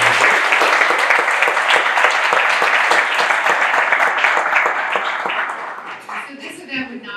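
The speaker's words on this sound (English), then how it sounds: "Let's give them a round of applause." A crowd at the 2023 Upper Dublin medals ceremony gives a sustained, loud round of applause for the event organizers, dense clapping that tapers off toward the end.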